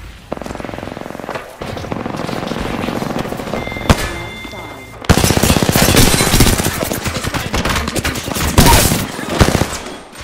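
Sustained automatic gunfire in a shooter video game, a quieter stretch of shots followed by a loud, rapid, unbroken machine-gun rattle with occasional louder bursts.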